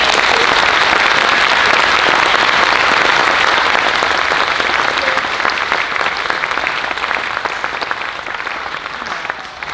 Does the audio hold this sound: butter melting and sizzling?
no